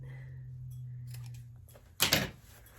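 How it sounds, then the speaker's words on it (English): Scissors snip once into folded fabric while sewing a collar, a short crisp close cut after a quiet stretch with a low background hum. "So I'll just do a little tiny cut like that."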